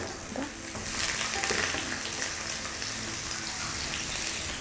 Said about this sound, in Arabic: هبتدي بقى اشوح الخضار